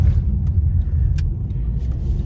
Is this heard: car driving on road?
yes